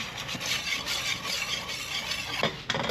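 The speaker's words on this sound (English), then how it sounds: "Mix the milk and flour together." Milk and flour are being stirred into a paste for gravy to go with roasted goat, giving close, steady scraping and swishing from a utensil moving through the thick mix, with no talking.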